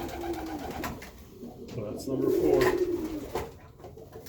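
Racing pigeons coo softly in a loft, low murmuring calls repeating close by while someone talks over them.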